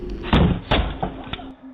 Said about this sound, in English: and kicks the door once, then twice.